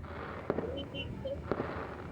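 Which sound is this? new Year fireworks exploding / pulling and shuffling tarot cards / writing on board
new Year fireworks exploding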